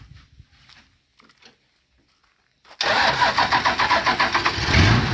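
A car engine cranks and catches after a quiet stretch, then runs loud and close with rhythmic pulsing revs.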